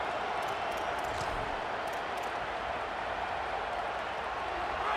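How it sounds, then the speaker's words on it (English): Stadium crowd in the College Football 27 video game, a loud, continuous roaring wash of fans with no breaks, dense and full throughout the short stretch. "Get the crowd loud."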